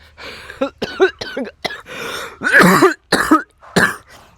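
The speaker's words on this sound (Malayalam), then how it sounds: "അപ്പോഴും ചുമ നല്ല രീതിക്ക് വന്നു" A run of harsh, hacking coughs, about seven bursts in quick succession, close and fairly loud, some with a rough voiced edge.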